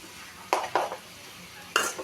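Sautéing ridge gourd with prawns in a pan for a curry gives three short bursts of scraping and clattering from the spoon against the pan. The noise is close, with quiet pauses between the bursts and no talk.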